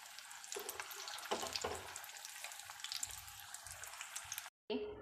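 Potato breadcrumb spring rolls fry in hot oil with a steady, dense sizzle and occasional crackles, cut off abruptly near the end before a brief return.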